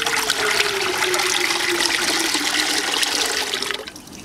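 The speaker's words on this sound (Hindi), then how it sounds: "इसमें हम पानी डालेंगे" Water pours steadily into a cooking pot in a home kitchen, a continuous rushing splash held close and fairly loud for about four seconds before easing off at the end.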